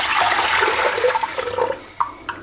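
Water that fibre has soaked in is poured into a turmeric natural-dye pot, a loud continuous gushing splash that tapers off into a few drips and trickles.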